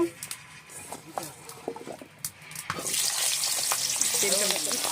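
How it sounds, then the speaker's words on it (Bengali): Potatoes frying in oil left over from frying fish for a rui fish curry: a voice talks at first, then a loud, steady sizzle takes over and runs to the end. "মাছ ভাজার তেলে আলুটা ভেজে নেব।"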